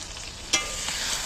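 A creamy mixture is tipped into a hot pan, breaking into a sudden sizzle that then settles into a steady, close frying hiss.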